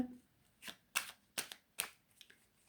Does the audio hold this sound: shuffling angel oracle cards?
yes